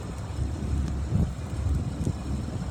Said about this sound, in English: Sorry, it's a little windy out.